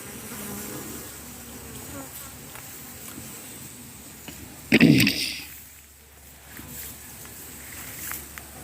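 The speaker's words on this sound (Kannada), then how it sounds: "ನಿಧಾನವಾಗಿ ನೊಣಗಳು ಇನ್ನೊಂದು ಪೆಟ್ಟಿಗೆಗೆ ಹೋಗುವ ಹಾಗೆ ನಾವು ಅವಕಾಶ ಮಾಡಿಕೊಡಬೇಕು" Honey bees hum in a steady, close swarm while being moved by gloved hands from one hive box into another, with a brief louder knock or rustle midway.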